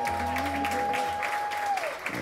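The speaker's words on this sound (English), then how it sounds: "ladies and gentlemen, round of applause." Guests applaud at a quinceañera celebration. Soft, fairly distant clapping runs under a sustained musical tone from the party's sound system, ending in a short, slightly louder burst.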